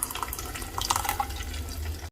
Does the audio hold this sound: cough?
no